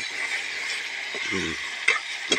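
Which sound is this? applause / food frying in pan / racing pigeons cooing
food frying in pan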